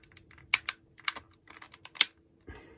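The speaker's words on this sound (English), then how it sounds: "back casing literally just clicks in, and there you go." The plastic back casing of a GPD Win handheld gaming laptop is pressed into place, giving a run of sharp, close plastic clicks and snaps, with one duller thud at the end.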